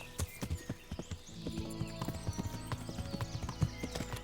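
Horse hooves in the game Kingdom Come: Deliverance: a quiet, steady clip-clop of hoofbeats in a regular galloping rhythm, faint and at a middle distance with soft ambient background.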